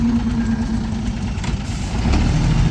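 Engine fitted with a steel piston running steadily at close range, a smooth low rumble with a faint knocking texture that swells slightly toward the end.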